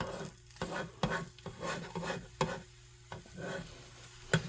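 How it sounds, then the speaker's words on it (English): Quick whisking of leftover egg mixture in a bowl, a soft rhythmic scraping and clicking of the whisk against the sides, close and fairly quiet with no talking. "I'm just quickly mixing that up."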